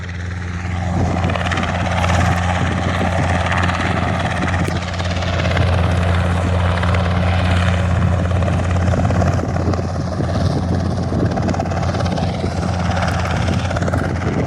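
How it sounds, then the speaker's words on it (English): A Cessna light aircraft looping in to land at Jandakot airport on a windy day, its propeller engine droning loudly and continuously with wind noise. "And another Cessna coming into land at Jandakot, just looping in."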